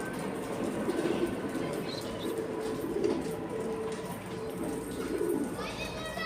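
Pigeons at a loft coo softly and repeatedly, moderately close, under steady background noise, with a person talking intermittently nearby.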